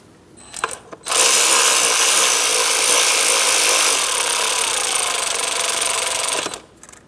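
A power tool runs up to tighten a 10mm bolt on the intake of a Cadillac CTS 3.6L V6: a loud, sustained whirring drive of about five seconds, preceded by a few short clicks and rattles, with no talk.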